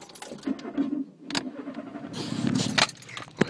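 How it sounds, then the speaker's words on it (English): Keys jangle before a car engine cranks and catches, then settles into a running rumble, close and fairly loud, on a stormy night. "You've got to start the car."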